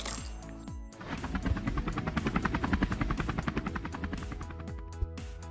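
A flight sequence in the video game Creatures of the Deep gives a loud, steady rhythmic chopping like helicopter rotor blades, pulsing rapidly over a low mechanical rumble with no talk.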